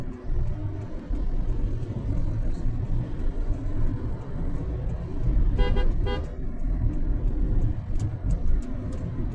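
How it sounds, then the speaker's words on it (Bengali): A car horn honks in busy night traffic in Dhaka, a few short toots over a steady engine and road rumble from nearby vehicles, with no talk. "ডিপার দিচ্ছি, হর্ন দিচ্ছি।"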